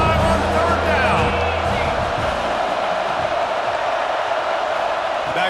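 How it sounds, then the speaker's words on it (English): Buckeye stadium crowd in EA Sports College Football 26 on a third-down play, a steady roar of a large video-game crowd that is loud throughout with no break. "The Buckeye crowd alive on 3rd down."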